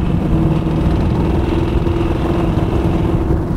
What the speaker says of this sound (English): I love the exhaust system on this car. It's got such a tough sound to it.